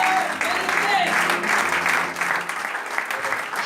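Church congregation clapping loudly and continuously at a worship service, dense sustained applause filling the room with voices mixed in.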